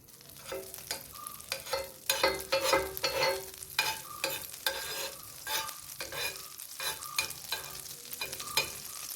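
Unsalted butter melts and sizzles in a frying pan, with rhythmic bursts of stirring and scraping close by.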